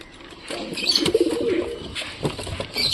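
Domestic pigeons coo close by in a repeated, throaty rolling pattern, with a faint voice briefly in the background.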